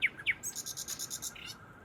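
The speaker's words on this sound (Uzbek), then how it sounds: "Shunaqangi chiroyli sayrayapti bitta qush." A single bird sings loudly at night near Issyk-Kul in Kyrgyzstan, with two sharp chirps followed by a rapid, even trill of bright notes in a quiet setting.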